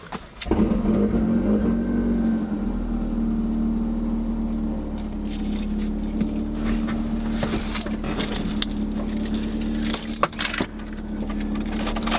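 Car keys jangle in a bright metallic rattle near the microphone beside a turbocharged Mazda Miata, with a steady engine hum running underneath throughout.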